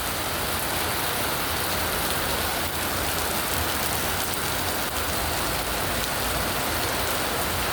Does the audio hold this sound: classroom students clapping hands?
no